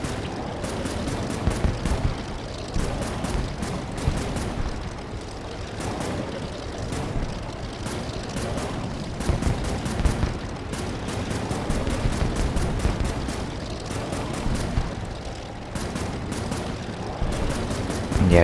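Rapid gunfire in the Air Wars 3 aerial combat game as shots are fired at an aircraft, dense continuous bursts of crackling shots with booming undertones, loud and sustained throughout.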